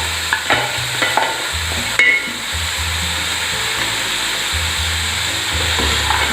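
Onion, capsicum, carrot and beans stir-fried in a pan for chicken fried rice, a loud steady sizzle with the roar of a strong flame and clanking spatula strokes.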